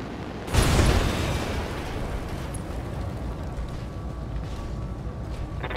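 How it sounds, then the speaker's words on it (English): Jump jets firing on a mech in the BattleTech video game: a sudden loud roaring burst that swells and then settles into a sustained, rumbling rush that carries on steadily to the end. "Firing jump jets."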